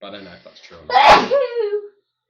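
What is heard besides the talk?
sneeze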